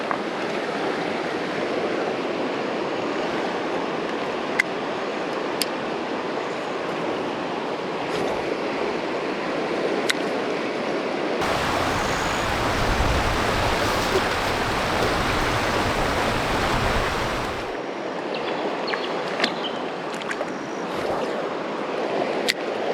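Running water of the Macalister River in the Victorian High Country, a steady rushing and burbling close by, continuous throughout and swelling louder in the middle section.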